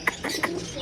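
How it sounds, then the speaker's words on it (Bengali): A pigeon at a bird house gives a short series of soft, throaty coos, with three pulsing calls close by over quiet background hiss. "এটা বলুন কী পায়রা, কমেন্টে জানান অবশ্যই এটা কী পায়রা।"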